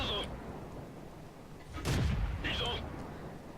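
Tank gun shot in a video game battle, one heavy booming report midway with a low rumble, set among quieter game sounds and short chirping tones.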